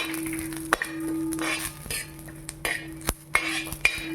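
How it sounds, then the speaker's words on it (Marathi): Garlic cloves and cumin seeds dry-roasting in a pan for green chili and peanut chutney, with repeated metallic spoon scrapes and clinks against the pan over a low, steady background hum. "त्या लसणाच्या पाकळ्या टाकूया, ते आपण यामध्ये चांगलं भाजून घेऊया"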